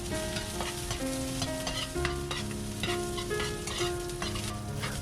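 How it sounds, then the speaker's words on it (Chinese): Chopped scallion, ginger and garlic stir-fry in a little rapeseed oil in a wok, with steady loud sizzling and repeated scraping and clanking of a ladle against the metal, close up and without speech. "锅里加少许菜籽油，然后加入刚才切好的葱、姜、蒜，开始爆锅"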